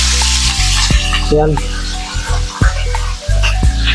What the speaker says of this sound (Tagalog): Iyan muna natin itong manok. Prituhin.